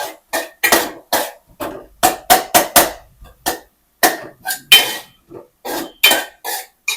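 A spoon scrapes and clanks in a cooking pan as cinnamon and dried red chillies are stirred for a pepper mushroom gravy, in quick, irregular metallic strokes close by.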